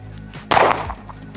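A single sharp pistol gunshot cracks out at close range during a shooting competition, ringing briefly before fading, with low background hum around it.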